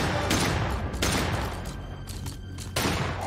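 Gunfire in the video game Daymare: 1998, with loud repeated shot bursts in close succession and brief pauses between them, no talk over it.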